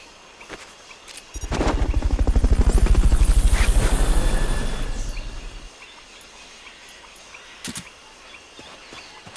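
A Fulton recovery helicopter from Metal Gear Solid Peace Walker swells in with rapid, loud rotor chopping for about four seconds, then fades out, leaving quiet game ambience with a few sharp clicks.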